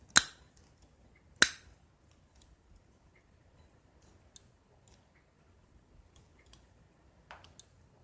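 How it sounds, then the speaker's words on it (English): Sharp cutters snip through a small-engine fuel line at an angle, giving two crisp, sharp clicks close by, followed by faint scattered ticks and light handling noises in a quiet room. "Cut as much of an angle as you can on the fuel line with a pair of sharp cutters."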